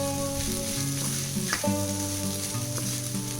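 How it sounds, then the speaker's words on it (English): Tomato rice coated in masala and spices is gently tossed in a hot pan, giving a steady sizzle with soft stirring scrapes and a low background hum. No one speaks. "So just gently toss your rice like this."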